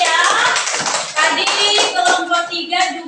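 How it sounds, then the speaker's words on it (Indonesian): Classroom applause from a group of pupils, dense hand clapping that runs steadily for the whole stretch, with a few voices mixed in. "tepuk tangan lagi sekali lagi ya"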